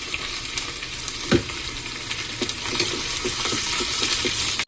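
Onions and tomato sautéing in oil with popped mustard seeds, a broad continuous sizzle close to the pan with scattered crackles and a few stirring knocks, steady and fairly loud, ending abruptly.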